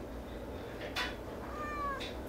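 A pet cat meows indoors: two or three brief, rising calls close by over a quiet, steady room hum, with no talking.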